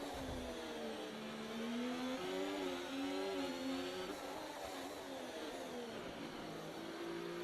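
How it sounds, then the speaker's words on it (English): Ferrari power unit of a Formula 1 car in the F1 24 racing game on the streets of Monte Carlo, a steady high-pitched whine rising and falling slightly in pitch, sustained and alone without talk. "Wow, the Ferrari engine sounds so weird."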